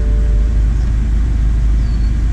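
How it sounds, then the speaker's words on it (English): A BMW 5 Series E60 engine running, a steady loud low rumble with a faint whine, continuous throughout without pauses. "let's get the car started"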